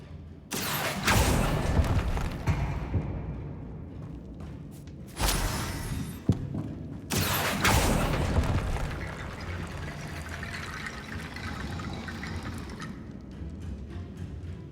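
Bombarda blasting spell explosions in Hogwarts Legacy, several loud booming bursts with crashing debris that tail off into a lingering rumble.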